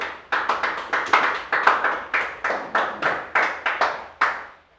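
A church congregation claps together in praise during a worship service, around a dozen sharp, fairly even bursts of clapping that rise and fall in waves, close and lively, with no talk over it.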